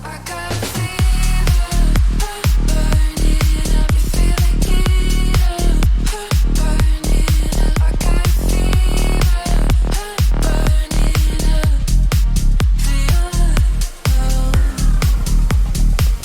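A loud, driving bass house synth bass pumping in a tight rhythmic house groove with a steady beat, dense and continuous, no voices.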